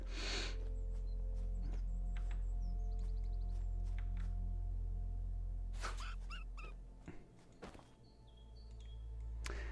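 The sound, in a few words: dogs in the video game Svarog's Dream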